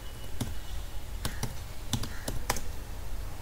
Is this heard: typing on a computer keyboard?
yes